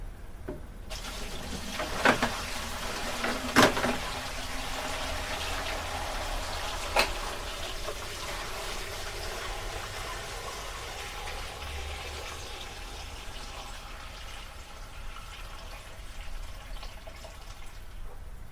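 Ice water poured into a tea-making setup, a steady trickling and splashing stream lasting the whole stretch, close and moderately quiet, with a few sharper clinks early on.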